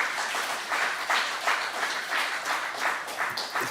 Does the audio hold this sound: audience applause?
yes